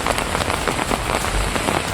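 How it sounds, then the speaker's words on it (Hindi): Heavy rain pours down during hours-long downpours in Doda, Jammu and Kashmir, a dense, loud, continuous hiss of drops drumming on surfaces with no voices. "डोडा में कई घंटे तक हुई जबरदस्त बारिश से नदी नाले उफान पर हैं।"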